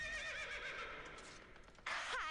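A horse gives a loud, close whinny that rises and wavers, then a second sharp neigh bursts out near the end, with no talking over it.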